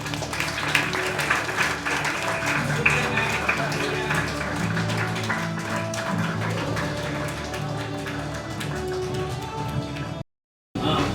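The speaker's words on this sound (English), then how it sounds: "So a big round of applause." An audience at a children's event with a Bollywood actress as chief guest applauds steadily under music, with voices mixed in. The sound cuts out briefly near the end.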